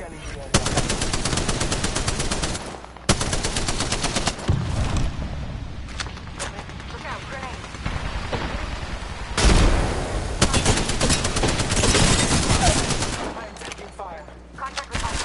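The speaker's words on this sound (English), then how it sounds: "Pretty dumb to shoot me with the L-star." Sustained automatic bursts from the L-STAR light machine gun in the video game Apex Legends hammer away in long rapid strings, loud and close, broken by brief pauses between volleys.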